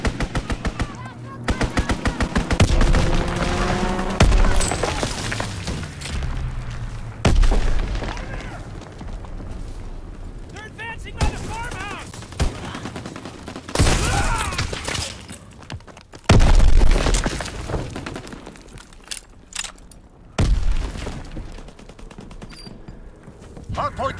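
Video-game WWII combat from Call of Duty WW2 multiplayer at Pointe du Hoc: a fighter pilot's strafing run brings long, loud bursts of rapid machine-gun fire with booms and thuds, alongside a game announcer's voice.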